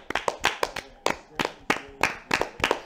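Hand clapping comes in a run of about fifteen sharp, close claps, some in quick pairs, with short uneven gaps and a brief pause partway through.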